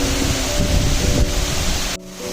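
Rushing water at Kakochang waterfall near Bokakhat, Assam, a steady broadband roar that holds constant and close for about two seconds, then drops abruptly near the end before resuming slightly softer.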